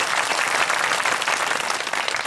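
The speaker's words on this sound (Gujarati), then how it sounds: "એકવાર પાડો જોરદાર તાળીઓ આપણા માટે" Hearty, continuous applause from a large community gathering at a social get-together, close and dense with no pauses.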